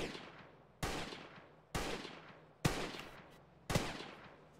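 Gunfire in the military video game Arma 3: four heavy, evenly spaced shots, each a sharp crack followed by a long rolling echo that decays before the next, fairly distant.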